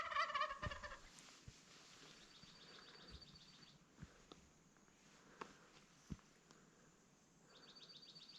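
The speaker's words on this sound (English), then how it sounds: "that turkey followed me to camp, and now he's walking right on in" A wild turkey on the Blue Ridge Trail in Guadalupe Mountains National Park gobbles loudly and close at the start, followed by faint distant bird chirps and soft rustling outdoors.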